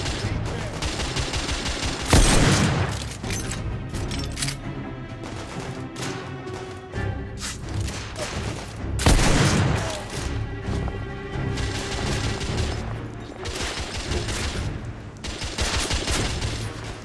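Rapid bursts of gunfire in the video game The Order: 1886, heavy volleys and sharp blasts repeating over a continuous battle din, with occasional shouted voices mixed in.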